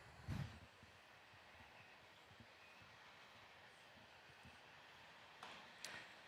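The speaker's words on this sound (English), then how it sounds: "When the train's coming through, it's kind of fun." A train passes beyond the outfield of a junior varsity baseball game, heard as a faint, distant, steady rumble with a few soft clanks at the start and end.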